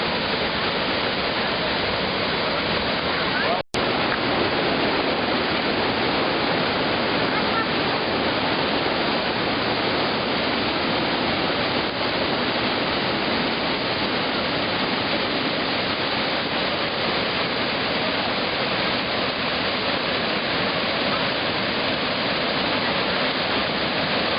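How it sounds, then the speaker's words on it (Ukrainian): Steady, dense rush of a cascading Carpathian mountain waterfall, constant and broadband with no pauses, heard up close; a brief sharp click interrupts it once. "Ось бачите, які цікаві водоспади каскадного типу."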